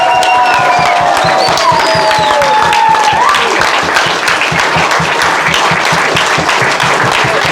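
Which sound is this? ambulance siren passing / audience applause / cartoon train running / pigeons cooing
audience applause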